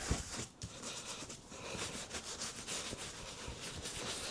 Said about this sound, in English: give it a good scrub in all the little nooks and crannies, and just work your way around the bag